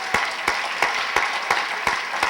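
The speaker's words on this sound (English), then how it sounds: "Y'all give yourselves a round of applause." An audience at a political committee dinner applauds, a moderate wash of clapping punctuated by regular, sharper claps that stand out at an even pace from nearby hands.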